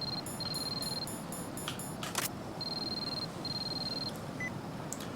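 Metal Gear Solid 2 plays an incoming codec-style phone call as repeated high electronic tones in short bursts, with a few clicks between them, faint and without voices.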